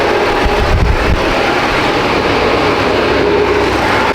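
A built Subaru STI running hard on a dyno with its wastegate line popped off, giving a loud, steady broadband roar and rushing hiss that fills the whole stretch.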